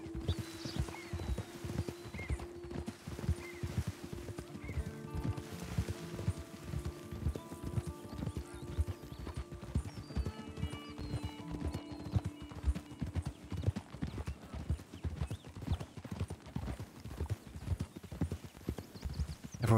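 Steady clip-clopping of horse hooves in an even walking rhythm, with a brief whinny and faint tonal ambience in the background, from the video game Red Dead Redemption 2.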